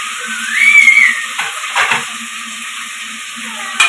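Fenugreek leaves frying in a pan, a steady sizzle with brief stirring scrapes, close and fairly loud, no talking over it.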